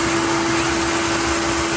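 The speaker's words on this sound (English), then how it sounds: "So I'll probably run the vacuum as we're going just to keep chips out." A shop vacuum runs steadily and loudly while chips are cleared from drilling inside a Mazda Miata during a roll bar installation, a continuous whine with a constant hum and no pauses.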